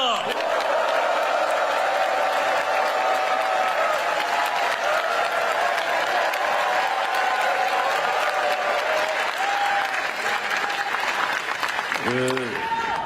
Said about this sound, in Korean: 열렬한 환호와 박수를 부탁드립니다.